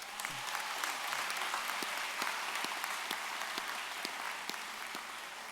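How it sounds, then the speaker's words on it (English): Graduates and guests applaud at a Florida Atlantic University spring commencement ceremony, a broad, distant roar of many hands clapping in a large venue, steady and unbroken. "please join me in a round of applause for your family and friends"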